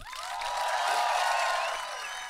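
Studio audience applause on the Italian talk show Tintoria, a dense sustained burst of clapping with rising whoops and cheers riding over it, loud and steady for a couple of seconds before easing slightly.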